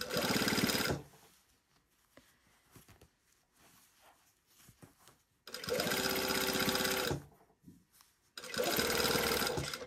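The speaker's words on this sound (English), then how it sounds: "And I'm just sewing it until I get to the end here of this fly piece." Sewing machine stitching the fly piece of a pair of pants, running in three rapid whirring bursts separated by quieter pauses filled with light handling noises.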